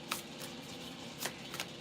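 Tarot cards are shuffled in a few brief, soft riffles close by, separated by quiet pauses, with no talk.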